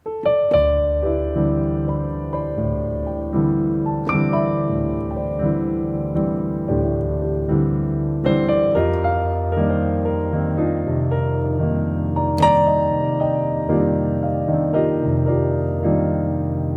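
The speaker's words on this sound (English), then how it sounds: "you're going to just play the sus chord all by itself." Solo piano plays sustained, open suspended chords from a tune, struck every few seconds and left ringing, resonant and unhurried with no voices.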